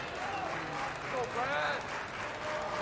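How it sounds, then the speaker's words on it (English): Crowd at an NCAA super regional baseball game between Florida State and UConn, a steady wash of clapping and cheering with a few whistles and shouts rising midway, with voices mixed in throughout. "Every pitch accompanied by claps and cheers"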